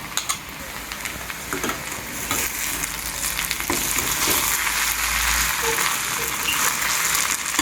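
Raw banana podimas frying in a pan with grated coconut scattered over it, a steady bright sizzle with soft stirring scrapes throughout, no voices.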